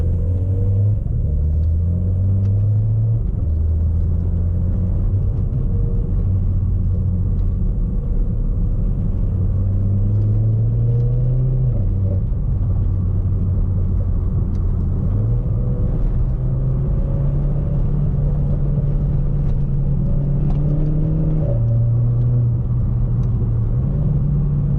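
A Renault Clio 4 RS in sport mode with manual sequential shifting, its engine and rear exhaust silencer droning loudly and resonantly. Revs climb repeatedly and drop briefly at each gear change, a steady close-up rumble with no talk.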